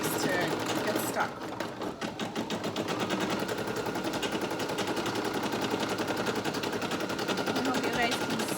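A Brother SE1900 embroidery machine stitches a dog collar in a fast, steady mechanical rattle that is close and continuous, with a brief dip early on.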